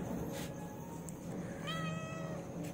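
A cat gives a single faint meow, a short drawn-out cry rising over a quiet indoor background.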